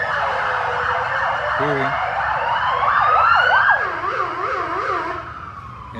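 A fire engine siren wails loudly and close, its pitch sweeping up and then settling into a fast rising-and-falling yelp, heard outdoors beside a sukkah with traffic noise underneath.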